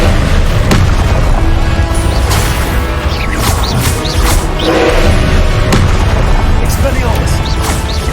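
During a first trial boss fight in Hogwarts Legacy, Confringo fire spells blast again and again, sharp crashing booms scattered among clashing combat effects, with a voice heard throughout.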